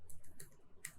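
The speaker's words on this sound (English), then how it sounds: "When I am typing this," A few sparse keystrokes on a computer keyboard while a coding problem is worked through, heard as three faint, separate clicks spaced apart in an otherwise quiet room.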